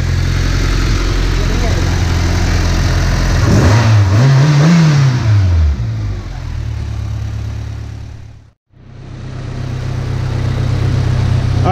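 A tuned car fitted with an HKS muffler, two Vibrant 3-inch ultra-quiet resonators and 3-inch piping idles loudly nearby, climbs through a quick rising rev and falls back, then cuts out abruptly before the idle returns.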